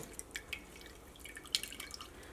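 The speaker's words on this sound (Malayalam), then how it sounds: "നന്നായിട്ട് പ്രസ് ചെയ്തിട്ട് വെള്ളം കളയണം" Faint, scattered drips and trickles of water falling at irregular intervals as homemade cheese is pressed and drained through a fine sieve, quiet and close, with no talking.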